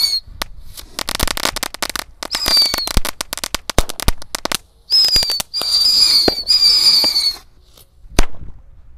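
A pack of Indonesian mercon firecrackers goes off at once, with a rapid, loud, uneven chain of sharp cracks and pops, some whistling bursts, and a last stray bang after a brief pause.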